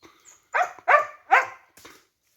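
A Bhotiya dog barks sharply three times near a temple during a fight with langurs, followed by a softer fourth bark, all loud and close with short gaps between them.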